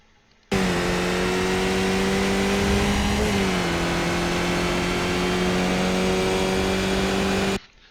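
A race car engine in the iRacing sim, a Skip Barber car on the Hockenheim short circuit, drones loud and steady while climbing through the gears, its pitch dipping briefly at a shift midway.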